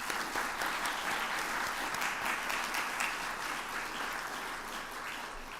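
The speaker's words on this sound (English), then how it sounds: "So please join me in applauding their efforts." Audience applause at a college of medicine honors night awards ceremony, a steady dense wash of clapping hands from a large room that holds evenly for several seconds with no talk over it.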